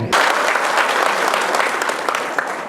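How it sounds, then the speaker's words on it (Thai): Dense, steady audience applause fills a hall at a Thai municipal study-visit welcome event in Klaeng district, Rayong. The clapping is close and continuous for nearly three seconds, with no break in the wash. "ขอบคุณเสียงปรบมือ"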